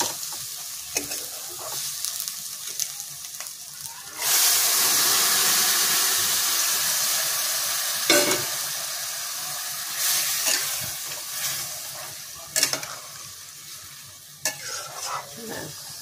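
Boiled black chickpeas fried with kasuri methi in a pan, a loud continuous sizzle with scraping stirs and bursts of hiss that rise and fall up close, no voices.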